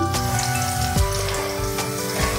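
Garlic frying in oil in a pan beside already-browned onion while cooking lalmohan bhetki fish, giving a steady close sizzle with faint tonal ringing and a few soft knocks.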